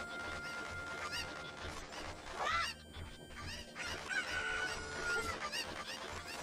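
Cuckoo chickens from The Legend of Zelda: Ocarina of Time squawk and crow repeatedly over a busy game soundtrack, with a sharper, louder call rising midway and further clucks after.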